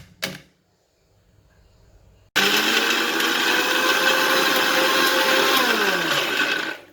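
A kitchen blender crushing butter digestive biscuits for a pineapple cheesecake base: after a brief knock and near silence, the motor kicks in abruptly and runs loud and steady, with a slight pitch drop as the crumbs break down.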